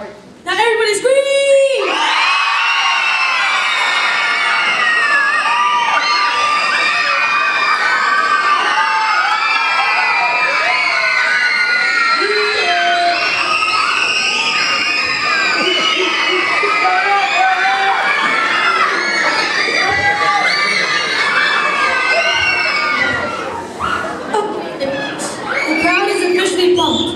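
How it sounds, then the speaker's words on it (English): A large crowd of children in a school talent show audience screams and cheers loudly and without a break for over twenty seconds, full of high shrieks and whoops, before the noise drops away at the end. "Now everybody scream!"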